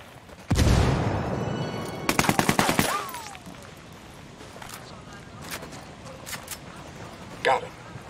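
Gunfire in the video game Ghost Recon Wildlands. A loud blast opens, then a rapid burst of automatic fire and scattered fainter shots with game voices talking in between.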